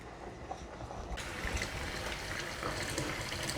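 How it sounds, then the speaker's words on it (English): Cold water runs from a kitchen tap over cooked saltfish in a sink, a steady close splashing and trickling that grows fuller after the first second. "I'm just running cold water just so I can handle it and it's not so hot."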